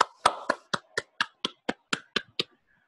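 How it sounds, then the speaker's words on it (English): Students in a language class clap in a short round, about ten distinct, evenly spaced hand claps in a steady rhythm, close and clear, ending abruptly with no talk over them. "Applause for Robert and Sylvia."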